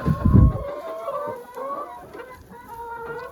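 A broody hen on a village farm gives a run of low, throaty clucks at close range, with a brief thump at the start and otherwise little else around it.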